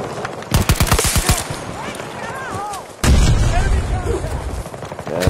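Rapid bursts of gunfire and heavy explosive booms from a rocket launcher in the video game Battlefield 2042, loud and dense, with a second wave of blasts cutting in midway over constant battlefield noise.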